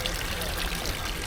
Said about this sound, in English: Water coming out of the mouth.